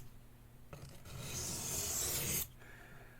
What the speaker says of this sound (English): the knife doing this number as you're coming back and forth on the stone